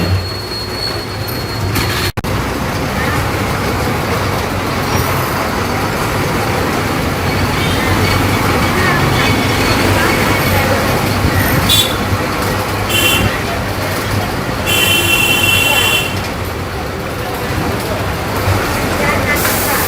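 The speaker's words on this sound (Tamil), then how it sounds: "குளச்சல் பஸ் ஸ்டாண்ட் வந்தாச்சு ஆல்மோஸ்ட்" A bus rolls into the Colachel bus stand in Kanyakumari district with a loud, continuous engine and road roar, punctuated by brief high squeals and hisses like brakes or air releases partway through.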